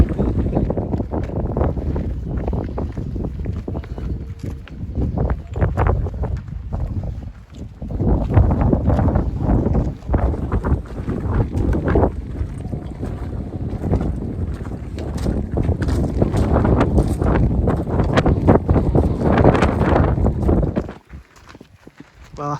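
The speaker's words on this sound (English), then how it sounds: "the wind's really picked up at the moment" Strong gusting wind buffeting the microphone on a mountain hike in the High Atlas, loud roaring rumbles that rise and fall in waves, easing briefly near the end.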